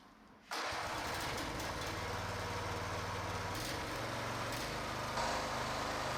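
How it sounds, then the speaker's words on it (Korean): A portable gasoline or diesel engine hydraulic power pack starts up after a brief quiet moment, then settles into a steady, loud, close running drone that continues with a slight rise near the end. "바로 엔진 시동을 걸어 보도록 하겠습니다"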